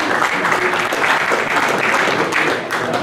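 Media members at a boxing press conference give a dense, continuous round of applause, loud and close throughout, with a faint crowd murmur underneath.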